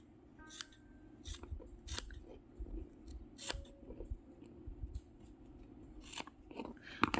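Scissors snip loose thread ends off stitched fabric journal pages, several sharp close cuts spaced irregularly over a quiet room background.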